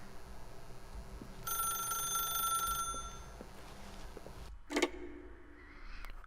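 A telephone rings in the video game The Stanley Parable, one bright, steady electronic trill lasting about a second, set over a quiet ambient hum and followed by a sharp click.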